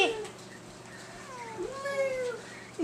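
A cat meows several times in rising, wavering cries, close by, with faint background noise between the calls.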